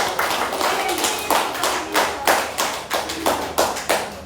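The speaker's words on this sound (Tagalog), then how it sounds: "Isang malakas sa palakpak para sa ating Panginoon." A church audience at a healing service claps in a steady rhythm of distinct, close hand claps, one roughly every half second, with background voices underneath.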